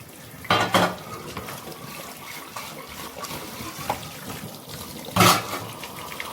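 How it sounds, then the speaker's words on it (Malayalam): Water runs from a tap into a sink as dishes are washed, with a few louder clinks and splashes of pots near the start and end over a steady background. "പാത്രങ്ങൾ ഞാൻ വേഗം ഒന്ന് കഴുകിയെടുക്കട്ടെ കേട്ടോ"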